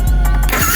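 Yamaha Vixion motorcycle engine starting after the starter switch is jumped, a short loud burst of cranking that catches into a running engine note, close by with no talk.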